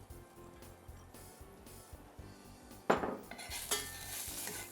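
Onions hit nice hot oil with a sudden burst of sizzling that swells and continues as a bright, crackling hiss over low kitchen background noise.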